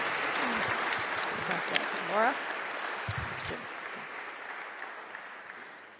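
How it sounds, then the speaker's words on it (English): At a public forum, an audience gives a moderate, steady round of applause at some distance, with a voice briefly calling out over it and a few faint vocal sounds in the mix. "thanks for the rounds of applause"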